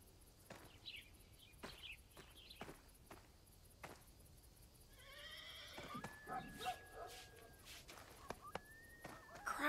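A horse in the video game Desperados III whinnies loudly in a shrill, wavering call after a run of sharp, evenly spaced hoof thuds and footsteps against a quiet background.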